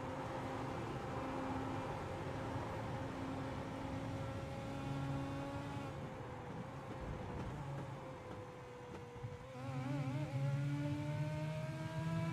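Race car at Road Atlanta climbing through the gears from inside the cockpit, engine pitch rising and dropping with each upshift, a steady loud continuous drone with a brief lift around the middle before pulling hard again.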